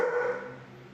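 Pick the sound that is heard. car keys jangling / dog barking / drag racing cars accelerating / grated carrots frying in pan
dog barking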